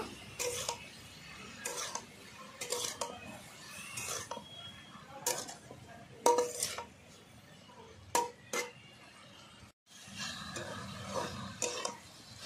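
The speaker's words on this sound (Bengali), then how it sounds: "এবার ভালো করে কষিয়ে নেব" Pui greens with ginger paste are sautéed in a pan, with intermittent clinks and scrapes of the spatula against metal separated by quiet gaps, close and without talking.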